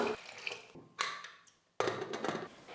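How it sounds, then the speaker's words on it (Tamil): Water poured into a pressure cooker holding dal and potatoes, in two splashing bursts separated by a brief pause, close and fairly quiet. "பருப்பு வேகிறதுக்காக மட்டும் தண்ணியை சேர்த்துட்டு நம்ம வேக வச்சு எடுத்துக்கலாம்"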